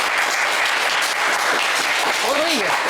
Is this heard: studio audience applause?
yes